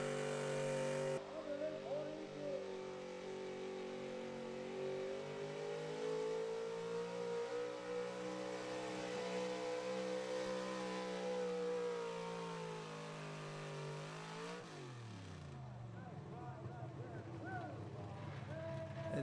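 A pulling truck at a truck and tractor pull roars down the track, its engine screaming loud and sustained with rising pitch for several seconds before cutting off abruptly, while an announcer talks over it.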